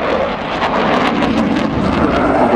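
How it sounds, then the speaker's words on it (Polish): At the Radom Air Show 2015, an aerobatic airplane holds a max-rate turn, its engine a steady, loud, broad roar with a rushing, wind-like edge that continues unbroken for a few seconds. "Now pilots is pulling a continuous G9G force in this max rate turn."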